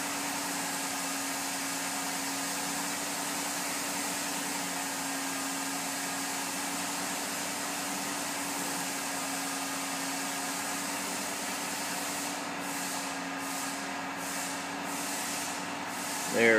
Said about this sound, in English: it's going to start sucking down the tank, the canister, and the lines.